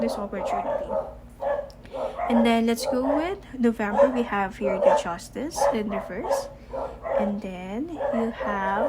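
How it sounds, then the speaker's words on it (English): Dogs bark and yip in the background while a person talks continuously over them throughout, indoors during a tarot card reading. "I'm really sorry about my dogs."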